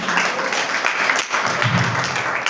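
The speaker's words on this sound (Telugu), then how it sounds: "గట్టిగా చప్పట్లు కొట్టండి" The congregation at a Sunday worship service at Alpha Omega Church in Kummarigudem claps loudly and steadily, a close, dense patter with a brief dip partway through.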